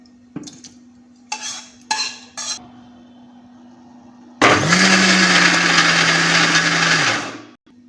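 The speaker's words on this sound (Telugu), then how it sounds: "టమాటా గుజ్జు ఇప్పుడు దీనిలో మిక్సీలో వేసేసి మిక్సీ పట్టుకుందాం మనం" Cooked tomato pulp being ground in a mixer grinder, preceded by a few clinks of the jar and lid, then a loud, steady motor whir for about three seconds that winds down at the end.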